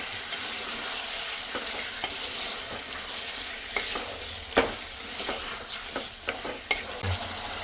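Half a kilo of chicken is stirred and mixed in a cooking pot over a soft sizzle, with irregular scrapes and knocks from the utensil against the pot.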